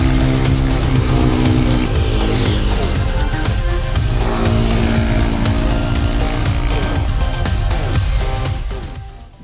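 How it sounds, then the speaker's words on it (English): A TVS Raider 125 motorcycle engine while riding, a loud continuous deep bassy drone with shifting pitch as revs rise and fall, close and steady for about nine seconds before fading. "The bike produces a deep, bassy soundtrack."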